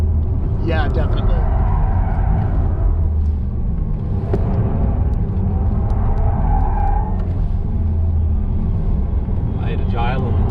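A 2020 Porsche Taycan Turbo S electric sports car drives hard on a race track, with loud continuous road rumble, tyre noise and the whine of the electric motor rising and falling, while people talk over it.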